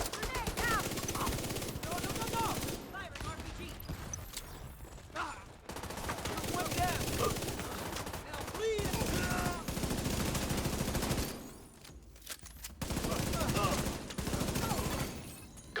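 Automatic weapon fire in a video game, loud sustained bursts broken by a few short gaps, with in-game voices speaking over the shooting.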